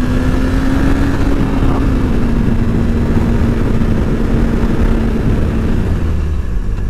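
A salvage-auction motorcycle with little damage is ridden, its engine giving a loud, steady rumble with a sustained low hum and heavy wind noise, with no talk.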